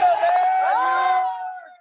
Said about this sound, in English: Spectators cheer as a convoy of ambulances and buses enter Israel from Egypt